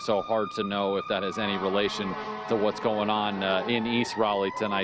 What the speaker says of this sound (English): That is just a fire truck leaving